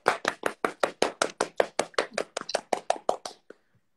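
Rapid, steady hand clapping from a single person close by, about twenty sharp claps in quick rhythm that stop abruptly, followed by near silence.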